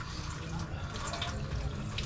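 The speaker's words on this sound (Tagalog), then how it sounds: "Mahina kasi yung tubig." Weak water flow from a household tap, a soft steady trickle and hiss, faint and continuous throughout.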